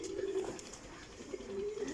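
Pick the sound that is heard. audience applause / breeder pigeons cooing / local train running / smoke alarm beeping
breeder pigeons cooing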